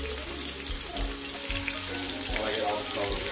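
Meat sizzles in a pan while birria is being made, giving a dense, steady hiss with soft bubbling and low rumbling beneath, fairly close and constant with no clear breaks.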